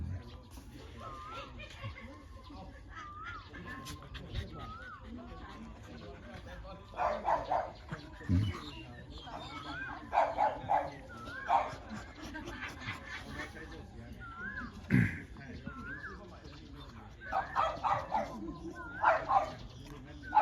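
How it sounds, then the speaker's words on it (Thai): Dogs at a rural Thai home barking and yipping in repeated short bursts, some clustered in quick doubles and triples, moderately near, with people chatting throughout between and over the barks. "เนี่ยดุกดิกกระเห่าเพราะดุกดิก"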